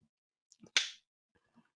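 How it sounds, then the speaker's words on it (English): A single sharp hand clap rings out close and loud for sync at the start of a two-host camera podcast recording, preceded by faint rustling and followed by quiet handling noises. "I think we need to clap it in."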